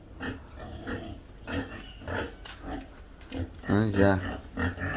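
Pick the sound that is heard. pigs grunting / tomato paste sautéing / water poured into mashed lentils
pigs grunting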